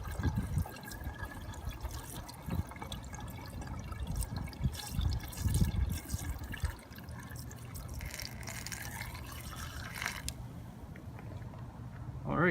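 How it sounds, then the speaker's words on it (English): Windshield washer fluid poured through a funnel into a car reservoir, a steady liquid gurgle and trickle with uneven splashing, faint and close, with some voice in the background. "put the funnel in and then you're just going to pour"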